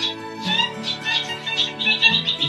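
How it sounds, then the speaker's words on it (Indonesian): Noisy birds squawk and chatter as a sound effect in a told story, a busy, close overlapping chorus of shrill calls running throughout at moderate loudness. "juga terdengar suara riuh burung"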